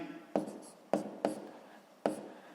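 Pen scratching on paper while working a sixth-grade maths exercise, heard as four short, distinct strokes spaced unevenly, close and fairly quiet.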